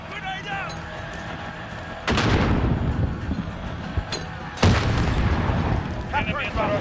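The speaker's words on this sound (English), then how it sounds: "Taking Bravo. Grenade out!" A grenade blast from Call of Duty lands as two sudden, heavy booms a couple of seconds apart, each followed by rumbling gunfire and battle noise, loud and close amid the surrounding in-game mayhem.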